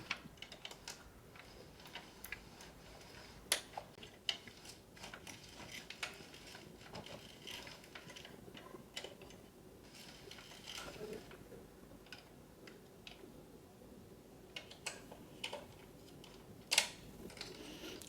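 Soft mechanical clicks and ratcheting clatter from a knitting machine casting on with waste yarn, quiet and irregular with scattered sharper taps.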